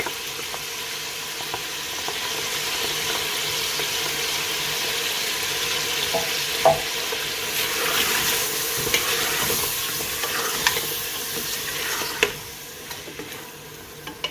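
Mutton frying with garlic-ginger paste and green chillies gives a steady, moderately loud sizzle, with scattered scraping and stirring knocks from a spoon in the pan near the end.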